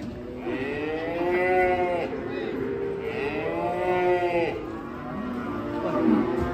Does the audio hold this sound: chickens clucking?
no